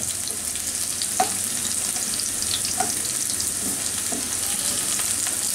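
Thick-cut garlic frying in oil in a pan, a steady bright sizzle with occasional faint stirring clicks and scrapes, close and continuous with no voices.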